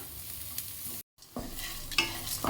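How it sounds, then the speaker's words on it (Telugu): Onions frying to light golden brown and being stirred in a pan for an egg tomato pulusu, a steady close sizzle with scraping strokes, broken by a brief silent gap before the frying resumes. "ఆనియన్ ఈ మాత్రం ఫ్రై అయితే చాలండి"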